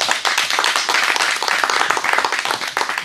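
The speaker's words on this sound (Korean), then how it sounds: "큰 박수 부탁드립니다" Loud, close applause from a conference audience at an academic peace and religion meeting, many crisp hand claps forming a dense, continuous roar as a researcher is welcomed.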